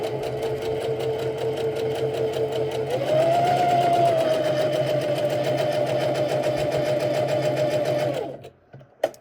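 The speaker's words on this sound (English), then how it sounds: "We just want to sew straight down off the fabric" A sewing machine stitches a dart straight off the edge of dress fabric, its motor whirring in a continuous loud hum that rises slightly in pitch partway through, then stops abruptly near the end.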